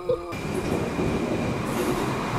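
A train passing near a skatepark in Mullingar, a steady loud broadband rumble that sustains throughout after a brief quieter moment at the start.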